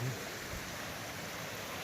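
Steady, even rush of a small waterfall running down beside a mountain trail on the Appalachian Trail, a constant, fairly faint wash of water with no clear talk.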